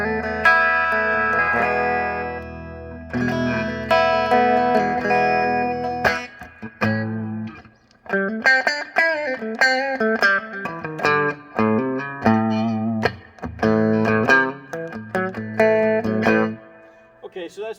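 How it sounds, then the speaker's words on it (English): Electric guitar chords and single-note lines through a Pignose G60RV amp ring out with a heavy wash of reverb, tails lingering between phrases, played alone at a steady, fairly loud level. "you can get lots of reverb if you like. Tons of reverb."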